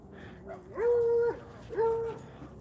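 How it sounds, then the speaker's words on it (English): Excited dogs fresh out of a car let out two drawn-out, high whining yelps about a second apart, close and fairly loud over a quiet background. "some of these dogs are like super excited when they get out of the car."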